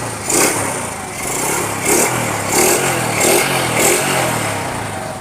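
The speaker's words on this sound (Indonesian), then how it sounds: "Nah, ini mesinnya halus banget." A Honda CB motorcycle engine runs close by, its smooth idle rising and falling in a few gentle revs with a light mechanical clatter, no talking.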